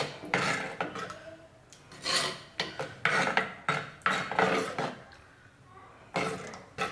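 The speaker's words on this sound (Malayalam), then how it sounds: "നന്നായിട്ടൊന്ന് മിക്സ് ചെയ്ത് കൊടുക്കാം." Pineapple pachadi being stirred with sugar in a pan, producing repeated scraping, rubbing strokes in uneven bursts, fairly close and moderately loud.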